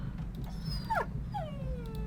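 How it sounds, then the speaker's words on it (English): A dog in the video game The Last Express gives a few short whimpering yips, one quick call then a longer falling whine, faint over a steady low rumbling background hum with no talking. "here we can see the dog has returned"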